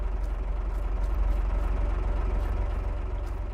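In Farming Simulator 22, a tractor's engine drones continuously beside a building, a deep, even idle with a faint rhythmic pulse and reverberant echo, steady throughout without speech.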